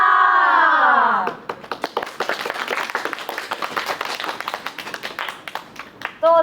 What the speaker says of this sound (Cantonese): 多謝掌聲。